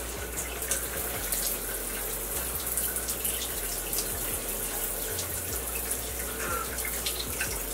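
Water runs steadily from a tap while hair is being shampooed, a continuous close hiss and splash lasting the whole stretch with no talking.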